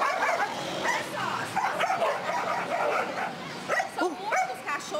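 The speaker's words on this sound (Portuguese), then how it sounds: "São muitos cachorros." A pack of many dogs barks, yips and whimpers continuously at moderate distance, overlapping into a noisy chorus while people talk in the background.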